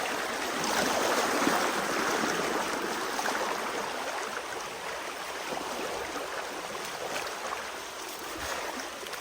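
Strong floodwater rushing past in a wrecked, flood-damaged area, a loud steady broadband roar of churning water that holds for the whole stretch with no talk over it.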